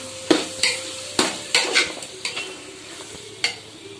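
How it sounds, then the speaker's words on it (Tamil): Chicken pieces sauté in a pan for biryani, loud sharp spatula scrapes and clanks against the pan sounding in bursts over a quieter background sizzle, close up with no speech. "சிக்கனை சேர்த்து இதையும் நல்லா வதக்கலாம்"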